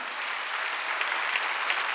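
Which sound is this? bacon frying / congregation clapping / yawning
congregation clapping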